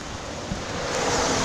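Steady rain falls outdoors beside a rural road, a dense, even hiss of fine drops that swells slightly toward the end, with no voices.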